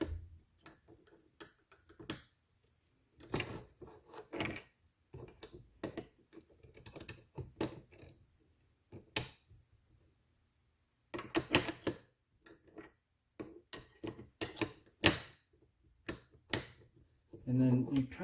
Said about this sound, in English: drop the bolt with this end going in first